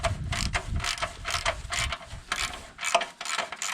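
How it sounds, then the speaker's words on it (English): A hand ratchet loosens bolts on the upper core support of a 2005 Toyota Yaris in a junkyard, giving close, rapid bursts of clicking in repeated strokes with short pauses between them. "Now we can start removing the bolts that's holding the upper core support on."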